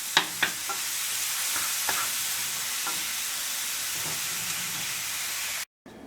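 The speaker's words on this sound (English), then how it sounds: "you can saute your garlic, onions, and jalapeno pepper until they are nice and tender for about 3 minutes" Garlic, onions and jalapeno pepper sautéing in a pan, a steady sizzle with a few scattered pops and stirring taps near the start, cutting off abruptly at the end.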